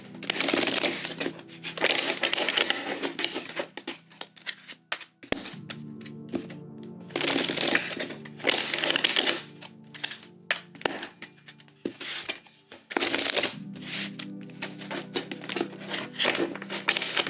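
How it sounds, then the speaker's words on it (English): Tarot cards are shuffled in three separate bursts of dense, crisp riffling and slapping, each a few seconds long. Short pauses fall between the bursts, and no one speaks. "we're going to do 3 shuffles"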